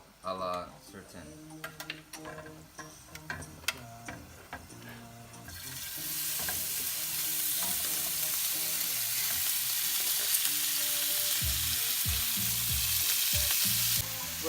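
Ingredients for pique a lo macho frying in oil in a pan: quieter clattering and sizzling at first, then a loud, steady, close-up hiss through the rest.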